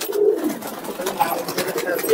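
Murshidabadi pigeons, a local breed of flying pigeon, coo softly in a loft, making low murmuring calls throughout with faint background noise and no clear talk.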